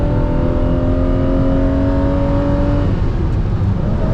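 A BMW M1 engine pulls hard through the gears, a loud close rising engine note climbing steadily in pitch, then dropping at a shift before building again, heard from inside the car without talk.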